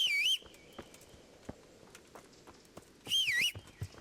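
Two loud, sliding whistles, one at the start and one near the end, as a player in the Kingdom Come: Deliverance video game whistles to teleport a horse, with soft clicks and footsteps filling the gap between them.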